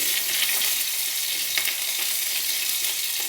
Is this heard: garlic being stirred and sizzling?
yes